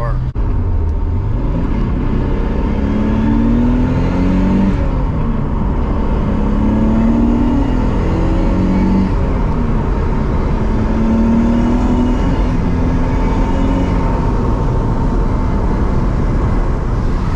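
Engine of a modified drift car accelerating on the road. It is loud and close, with the pitch climbing and dropping again through repeated gear shifts over a constant roar.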